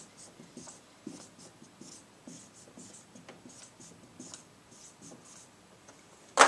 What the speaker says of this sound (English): So I'm going to take my stem and write that out.